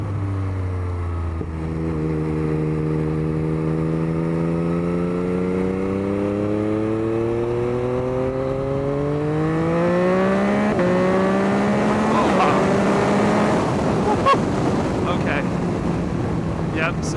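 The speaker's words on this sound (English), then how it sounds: "I can kind of give it a little bit more on the throttle." A 2021 Yamaha MT-09 motorcycle accelerates through its gears, the engine note climbing steadily in pitch, dipping at a shift, then rising again, heard loud from the rider's position with rushing wind noise throughout.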